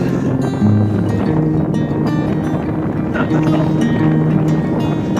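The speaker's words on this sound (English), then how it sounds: "The wind is very strong," Strong wind buffeting across a mountain top in the Karakoram, a loud continuous roar that fills the clip, with a voice partly under it.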